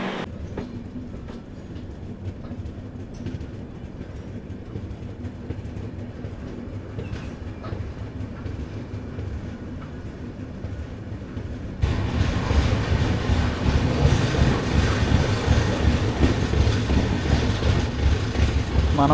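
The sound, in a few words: Garib Rath Express train passing station slowly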